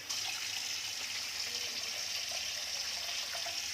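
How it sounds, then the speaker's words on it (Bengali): A little water pours into a hot pan of oil for fish curry, making a steady, close rush and hiss that runs unbroken throughout, no voices. "আমি এখন অল্প জল দেবো, বেশি দেবো না"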